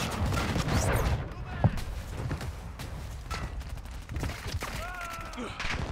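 Gunfire from the Call of Duty MW2 invasion mode, with dense, continuous bursts of automatic shooting and sharp cracks mixed with game effects and radio-style voice callouts, loud and sustained throughout.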